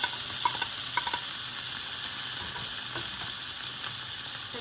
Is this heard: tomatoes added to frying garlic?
yes